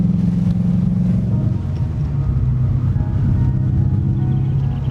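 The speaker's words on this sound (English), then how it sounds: "because it's misfire, it sounds like a freaking STI, like the rumble" A misfiring Subaru STI engine idles with a loud, close, lumpy rumble, its uneven low pulsing throb continuous throughout with no voices over it.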